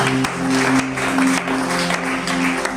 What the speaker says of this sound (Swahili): Tupige tena Bwana Yesu makofi